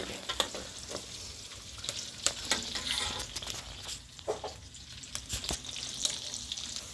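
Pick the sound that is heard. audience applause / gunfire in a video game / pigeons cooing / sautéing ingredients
sautéing ingredients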